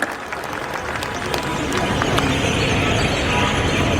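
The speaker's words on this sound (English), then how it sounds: "Let's give each other a round of applause as a sign of welcome to the National People's Party" A crowd applauds steadily at a National People's Party welcome rally, a dense wash of clapping that swells slightly and holds at moderate loudness throughout.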